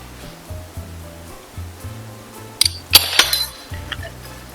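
Pesto being mixed in a bowl with Parmesan cheese and salt, a few sharp clinks of a utensil against the dish in a short burst amid low, quiet background hum.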